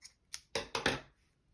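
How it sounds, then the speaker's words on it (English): Scissors snip through crochet yarn, several short, crisp cuts in quick succession, close and clear with no talking. "Chain 2 and grab my scissors,"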